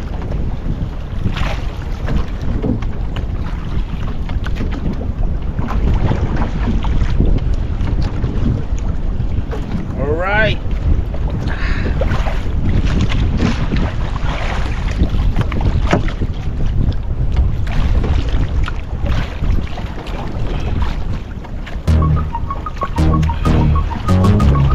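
Strong wind buffets the microphone in a constant heavy roar while someone paddles a small boat on open water, with sloshing waves and occasional knocks underneath and a brief watery splash near the end.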